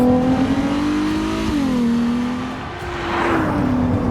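A Ferrari 296 GTB with a twin-turbo hybrid V6 revs close and loud, its engine note rising, dipping briefly during a gear change, then climbing again under acceleration, with no speech.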